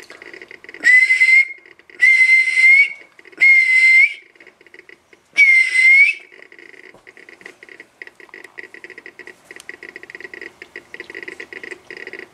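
Four loud whistled tones, each about half a second to a second long with a slight upward bend, whistled into the microphone of a Cobra 146 GTL CB radio, come through a hissy speaker, followed by crackling static.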